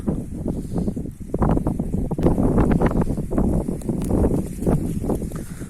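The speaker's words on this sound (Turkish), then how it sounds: "rüzgarda iyi esiyor ha" Gusty wind buffets the microphone with a continuous low, rumbling roar that swells and dips without pause, outdoors at a rubbish dump.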